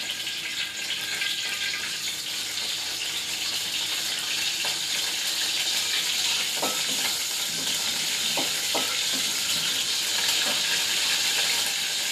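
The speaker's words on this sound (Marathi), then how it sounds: "आपल्याला शेवाळ्या मस्त परतून घ्यायच्या आहेत" Vermicelli is roasted in ghee in a pan, giving a steady, hissing sizzle throughout. A few faint scrapes from stirring come through, close and continuous, with no talking.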